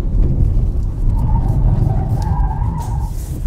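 A rear-wheel-drive Cupra Born electric hot hatch takes a corner hard, a loud, close rumble of tyres and road noise with a faint whine rising through the bend and no speech.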